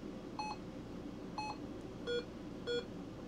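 Four short electronic keypad beeps from an RT95 radio, evenly spaced, over a steady hiss of background noise.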